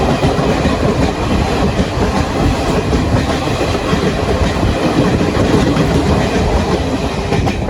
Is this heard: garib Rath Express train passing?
yes